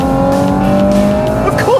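A 2018 Audi RS4 with quattro all-wheel drive and an 8-speed automatic accelerates hard, its engine note loud and close and rising steadily, with a tire squeal near the end.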